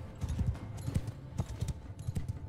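Galloping horses in the Mount and Blade Bannerlord battle game make quiet, rapid hoofbeats in uneven rhythmic bursts, heard from a moderate distance without any speech.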